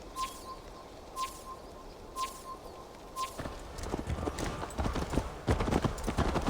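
Horse hooves clip-clop in Assassin's Creed Valhalla, starting as a few spaced steps with a faint chirping bird and building into a quicker, louder trot across the ground.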